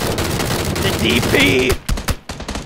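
A DP machine gun in PUBG fires a rapid, loud burst that cuts off abruptly, then a few scattered shots follow. A voice is heard over the firing.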